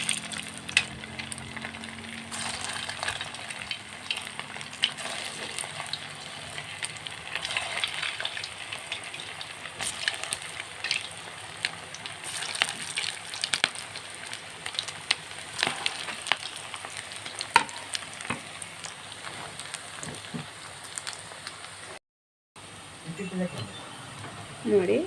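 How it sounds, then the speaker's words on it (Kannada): Balls of dough deep frying in hot oil over a medium flame, giving a steady crackling sizzle through the whole stretch with scattered pops and a brief dropout near the end. "ಈ ಎಣ್ಣೆನ ಮೀಡಿಯಮ್ ಉರಿಯಲ್ಲಿಟ್ಟು ಸ್ವಲ್ಪ ಬಿಸಿ ಆಗುವಾಗ ಈ ಮಾಡಿಟ್ಕೊಂಡಿರುವಂತಹ ಉಂಡೆಗಳನ್ನ ನಿಧಾನವಾಗಿ ಎಣ್ಣೆಯಲ್ಲಿ ಬಿಡಬೇಕು."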